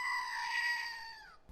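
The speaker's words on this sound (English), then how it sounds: "I did say I would let you hear the screaming goat, so here it goes." A clicked screaming goat novelty toy lets out one shrill, sustained bleating scream lasting over a second and fading at the end, heard alone and fairly close.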